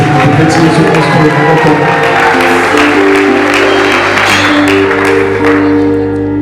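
A church congregation applauds in sustained, dense clapping that fills the whole stretch, with a sung or spoken voice and low musical tones running underneath.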